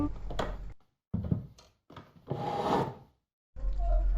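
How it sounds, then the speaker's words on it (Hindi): A wooden chair is dragged across a dining hall floor in a hostel, giving several separate scraping, rubbing bursts with short silent gaps between them, close and fairly loud. "एज इफ कोई कुर्सी को घसीट के थोड़ा सा मूव किया"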